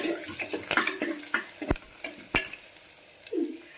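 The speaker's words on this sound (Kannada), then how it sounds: "ಬೆಳ್ಳುಳ್ಳಿ ಪೇಸ್ಟನ್ನು ಹಸಿ ವಾಸನೆ ಹೋಗುವವರೆಗೆ ಹುರ್ಕೋಬೇಕು" Garlic paste frying in a pan and stirred with a spoon: soft sizzling under irregular scraping strokes and occasional sharp knocks against the pan, close and fairly quiet, without talking.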